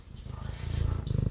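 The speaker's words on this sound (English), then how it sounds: "she always purrs" A cat purrs right beside the microphone, a close, rumbling rhythmic pulse that grows slightly louder over a second or so, with no talking over it.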